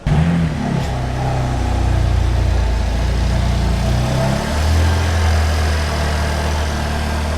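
A BMW M3 engine fires up and settles into a steady, smooth idle after a repair, heard up close and loud throughout with slight shifts in engine note.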